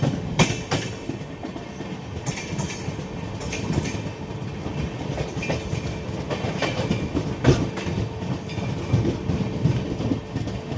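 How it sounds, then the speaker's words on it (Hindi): A train rolls into a station platform with steady rumbling and rhythmic clickety-clack of wheels over rail joints, close by and continuous, with no voices. "2 नंबर प्लेटफॉर्म पे अराइवल हो रहा है।"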